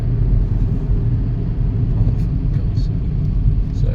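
Steady low rumble of motorway traffic heard from inside a moving car, alongside a bus in a slow jam, a constant engine and road drone throughout with no distinct pass-by.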